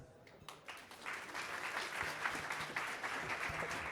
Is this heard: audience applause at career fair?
yes